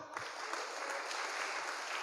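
Applause from a church congregation at a prayer gathering: a steady, even patter of many hands clapping throughout, fairly soft and distant in the room.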